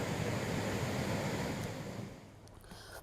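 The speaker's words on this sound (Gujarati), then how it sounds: "નદી બે કાંઠે વહેતી થઈ છે" A river in spate surging below the overflowing Mother India Dam near Surat after the season's first heavy rain, a steady broad rushing roar that slowly fades, fairly distant and alone.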